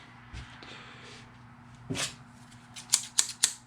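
A few quick, crisp snips of scissors, close up, following some soft rustling in a quiet room.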